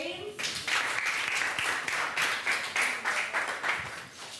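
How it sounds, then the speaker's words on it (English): An audience bursts into dense applause, the clapping loud and sustained with a slight fading toward the end. "Can you clap for him?"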